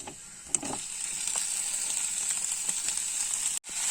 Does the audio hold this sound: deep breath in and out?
no